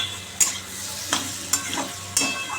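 Spiced mixture with coriander powder, salt and turmeric being stirred as it fries in a pan, soft steady sizzle broken by several distinct scraping strokes of the spoon, close by with no talking.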